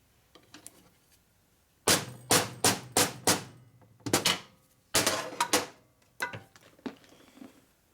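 Hammer blows seating a seal into a 1972 Harley-Davidson Sportster Ironhead XLCH engine case: a quiet tap or two, then a sharp run of five ringing metallic strikes, a pause, and two more clusters of loud close clanks.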